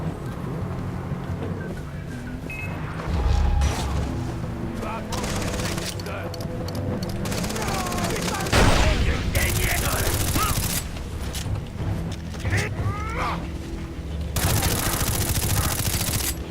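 Gunfire in the Far Cry 3 video game, with bursts of automatic fire and shots spread across the stretch alongside mechanical clatter and loud game effects, with talk mixed in at points.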